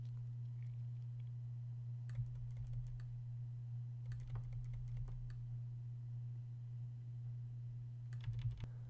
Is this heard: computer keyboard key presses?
yes